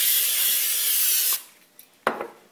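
Cooking spray hissing steadily into a baking pan for over a second, then stopping, followed by a few faint clicks and a short louder burst of handling noise; no talk.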